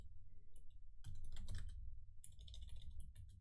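Bursts of rapid typing on a computer keyboard, close and crisp, with a pause between two clusters of clicking keys over a low steady background hum.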